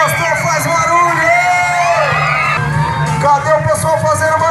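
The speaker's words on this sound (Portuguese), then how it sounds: "Quem whipe, quem gostou faz barulho!" Crowd at an outdoor BMX stunt show in Imperatriz cheering, whooping and yelling loudly and continuously, many overlapping high voices with a low rumbling background throughout.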